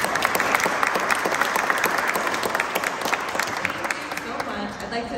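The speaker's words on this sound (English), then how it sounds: "You all deserve a round of applause" Applause from the audience at a city council meeting, a dense, steady burst of many hands clapping that fills the whole stretch without letting up, with no talk over it.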